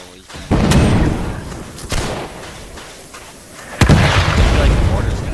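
Mortar fire in a game sounds as three loud booming blasts, each hitting suddenly and then trailing off into a long rumbling tail, with talk under the noise.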